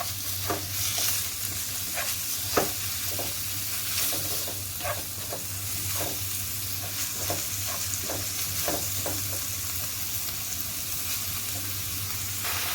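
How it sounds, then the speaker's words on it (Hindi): Minced meat fries in a pan with a steady sizzle, while a spoon scrapes and taps against the pan at irregular intervals throughout. "कीमे को मैं 1 से 2 मिनट के लिए भून लूँगी।"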